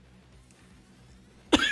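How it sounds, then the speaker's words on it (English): A single sharp cough bursts out near the end after a stretch of quiet room tone, close and loud. "Can't believe my cough just kicked in."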